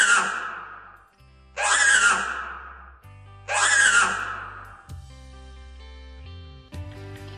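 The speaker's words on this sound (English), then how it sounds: "the pterodactyl screech." An RC flying pterodactyl toy lets out three loud, harsh, raspy screeches in a row, each about a second long and separated by short pauses, followed by electronic musical tones.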